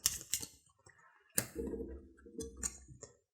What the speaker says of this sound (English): Oh, this is her deck. Just gonna shuffle that.